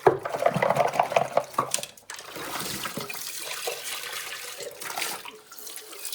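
Tap water runs into a container as it is washed out, splashing loudly with light clinks for about two seconds before settling into a softer, steady hiss.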